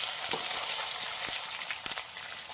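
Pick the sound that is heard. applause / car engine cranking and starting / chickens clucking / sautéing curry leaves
sautéing curry leaves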